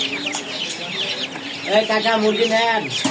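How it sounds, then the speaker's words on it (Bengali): Fayoumi roosters and large tiger chickens clucking close by while feeding, repeated harmonic clucks that grow louder in the second half, with a voice speaking over part of it. "এটা হচ্ছে ফাউমিটা মোরগ, 2টা মোরগ দিয়েছি। এই হচ্ছে টাইগার মুরগি, এগুলো বড় সাইজ।"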